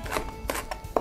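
Knife chopping food on a board during a cooking demonstration, a few separate crisp chops spaced irregularly, close and fairly quiet with no talking.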